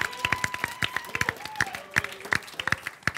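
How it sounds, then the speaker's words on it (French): Spectators at an improv show clap in quick, uneven bursts while a voice talks over the applause. "on leur donne une bonne main d'applaudissement"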